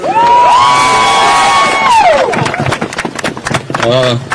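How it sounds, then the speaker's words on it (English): A vigil crowd breaks into loud cheering, whoops and applause that build and then fade. A voice on a microphone keeps talking over it. "Give him a big round of applause."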